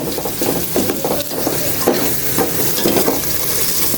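Sliced onions frying in a pan while being stirred, a continuous close sizzle broken by repeated scraping strokes of a utensil against the pan.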